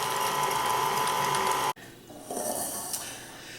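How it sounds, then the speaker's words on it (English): An electric stand mixer works cake flour and cornstarch on low speed with a loud, steady mechanical whir that cuts off abruptly. A quieter, rougher motor hum follows. "allow it to mix on this very low speed for about 30 seconds"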